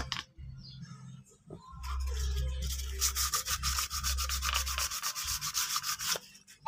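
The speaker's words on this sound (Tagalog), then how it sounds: "So liha lang." Steady abrasive scratching of sandpaper rubbed back and forth on a Honda Click 125 engine part during an overhaul, loud and close, with brief pauses between strokes.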